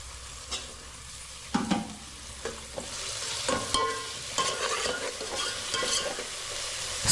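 Chopped green chillies being stirred into a hot pan, a steady sizzle of frying under repeated scraping and clacking strokes of the spoon, close and fairly loud, with no talking.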